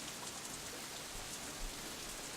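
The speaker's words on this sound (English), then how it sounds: "Let's go there and wait out the rain. It's just a really quick shower" Rain shower in the visual novel Katawa Shoujo, a steady hiss of falling rain with fine drop patter, continuous and even at low level, no voices.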